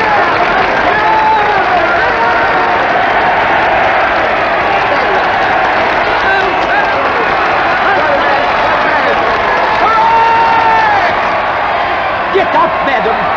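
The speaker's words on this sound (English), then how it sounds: "And all the way around the ground, people are standing up cheering." A large crowd at a cricket Test match roars and cheers around the ground as a player leaves the field, a continuous loud, dense wall of crowd noise with applause mixed in and no break.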